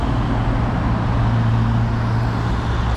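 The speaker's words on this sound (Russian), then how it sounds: "белый шум, да, то есть машины ездят" Steady road traffic drones outside an apartment with windows facing a Moscow street, a continuous low rumble of passing cars that stays even and moderately loud throughout with no talk.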